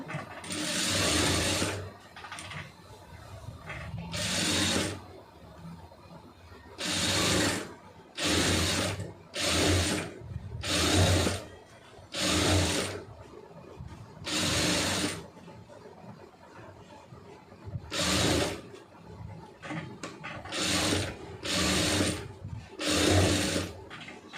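A sewing machine stitches around the puff sleeve of a lining blouse in repeated bursts of fast, rattling mechanical whirring, close and loud, with brief quiet gaps between runs and no talk.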